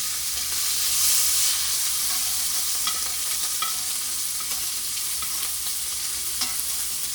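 Butter sizzles and crackles steadily around a steak basting in a pan, a continuous close frying hiss with small pops and the occasional clink of a spoon.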